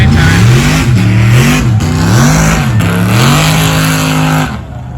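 Cars rev their engines on a road at night, loud, close, repeated rising and falling revs in waves over five seconds before easing off at the end.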